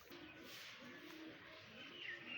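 A pigeon cooing softly in a low, repeated rhythmic murmur, faint and steady against a quiet background with light chirps near the end.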